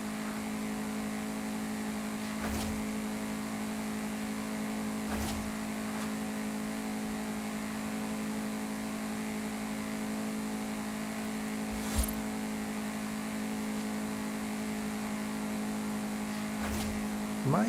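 Lamborghini Centenario racing car in a video game highway race, a steady, even engine drone held at constant pitch, with faint whooshes passing every few seconds.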